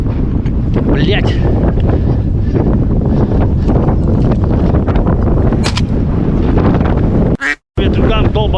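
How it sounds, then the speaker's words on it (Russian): Strong squally wind buffets the microphone in an open field during a goose hunt, a loud continuous roaring rumble with gusts, broken near the end by a brief cutout and a sharp burst; voices are faint. "Ветрюган долбаный."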